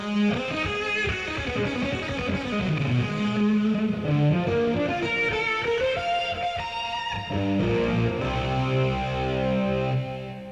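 Electric guitar lead played through fuzz pedals, with a thick, distorted sustaining tone. Dense melodic runs and held notes carry on continuously at steady loudness for the whole stretch, with no voices.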